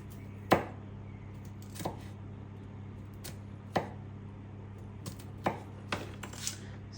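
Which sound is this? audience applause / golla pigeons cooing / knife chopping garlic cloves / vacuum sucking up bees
knife chopping garlic cloves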